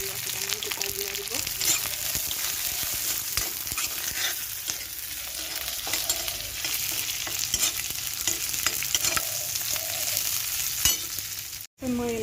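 Onion and cumin fry and sizzle in hot oil for a soybean curry, a continuous crackling hiss with frequent stirring scrapes, close and steady.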